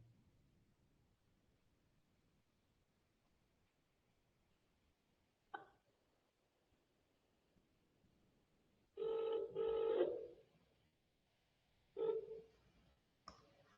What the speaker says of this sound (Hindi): किसी छात्र के पास जो है वह फोन आने वाला है।